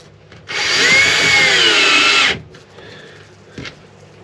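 A power drill drives temporary screws into a board on the Ocean Pirate 43 boat project, one loud continuous whirring run of about two seconds up close, followed by quieter handling knocks.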